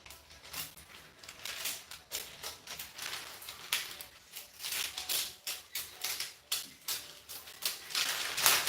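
Scissors snip through waistcoat fabric in a quick, irregular series of crisp cuts, close and fairly quiet, with no talking.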